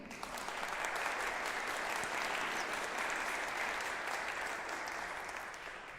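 Sustained applause from a church congregation at an annual meeting: a dense, continuous wash of many hands clapping that holds steady for several seconds and then tapers slightly, heard from a moderate distance without talk.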